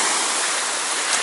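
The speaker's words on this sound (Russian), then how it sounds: "Ну а вот оно море, всеми вами любимое море." Sea water at Cleopatra Beach in Alanya, Turkey, in November, a steady broadband rush of gentle surf and water wash, close and continuous with no voices.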